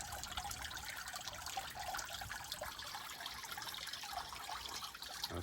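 Water from a garden pond waterfall runs and splashes steadily, a continuous bright trickling wash at moderate level with no talk over it.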